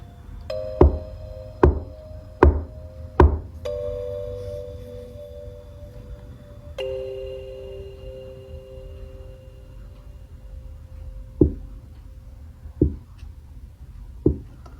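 Knocks on a floor during a tense paranormal investigation: four evenly spaced hollow raps, a pause, then three more scattered knocks, each sharp and close over a low humming background with faint ringing tones.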